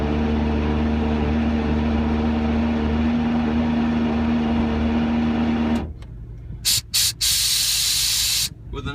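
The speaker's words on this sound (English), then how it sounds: "So when we lift this up, you'll hear the compressor start." Air compressor for a crew cab truck's air suspension bags, a steady loud droning hum with a constant tonal whine that runs for about six seconds, then cuts off, leaving quieter background with a few brief hissy bursts.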